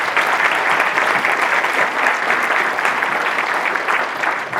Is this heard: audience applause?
yes